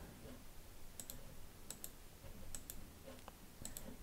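Several faint, sharp mouse clicks come in quick pairs and singles, isolated and quiet against a soft room hiss, while objects are created and rotated in CorelDraw.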